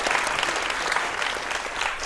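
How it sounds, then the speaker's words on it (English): An audience at the National Theatre claps continuously for a cast member, a dense, even patter of many hands filling the whole stretch without a break. "Go on, clap him."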